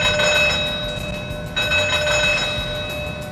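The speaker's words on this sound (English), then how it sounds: "the general emergency or fire alarm" A continuous ringing general emergency or fire alarm bell on an oil rig, with a steady metallic tone, loud and close, running through the whole stretch without pause.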